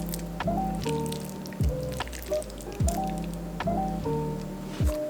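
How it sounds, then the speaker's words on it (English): A very wet shrimp croquette mixture is squeezed and shaped into small balls by hand. It makes repeated soft, moist squelches and squishes close up, with no talking. "I'm gonna mold this into small ball shapes. It can be a little difficult because it's very wet"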